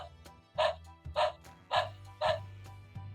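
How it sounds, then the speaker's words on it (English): An animal sound puzzle toy plays a recorded dog barking, four loud barks in an even rhythm, a little tinny over a low steady hum, with a softer fifth bark at the end. "Next up, a dog."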